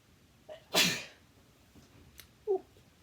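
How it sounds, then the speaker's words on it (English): A single sharp human sneeze at close range, loud and brief, with a small breath before it and a faint murmur afterward, in a quiet indoor room during card making. "I have got to sneeze."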